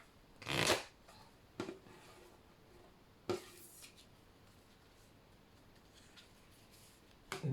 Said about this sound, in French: j'ai envie de vous tirer une carte sur la sagesse du colibri